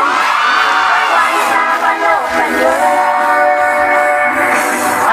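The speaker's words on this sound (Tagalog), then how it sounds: "Isa munang masikadong na palakpakan na may kasamang hiyawan." Loud crowd at a political rally cheering with shouts and whoops over a constant wash of clapping, energetic and sustained throughout.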